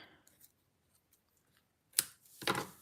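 Scissors trim a white paper piece for a handmade card, giving two close, crisp cutting snips near the end after a mostly quiet stretch with faint handling clicks.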